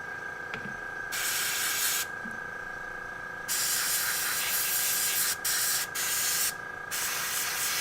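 An airbrush sprays in repeated on-off bursts while a clog is cleared during miniature painting, producing loud steady hissing blasts of a second or two separated by quieter gaps with a faint background hum, and no talking.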